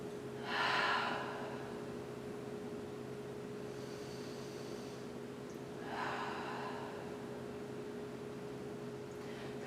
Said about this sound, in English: 2 big breaths here.